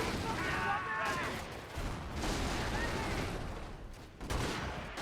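Dense infantry gunfire rattles continuously through a large battle in Company of Heroes, with overlapping rifle and machine-gun bursts and rumbling explosions under a commentator's voice.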